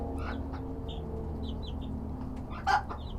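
Small frizzle bantam hen clucking softly in a backyard flock, a few short, quiet clucks spread over a low background hum, with one brighter, louder call near the end; no talk.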